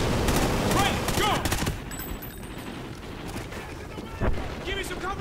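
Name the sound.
gunfire in video game Call of Duty: Ghosts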